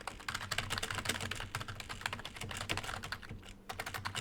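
A computer keyboard is typed on in a fast, continuous flurry of close, crisp key clicks with only a brief lull near the end.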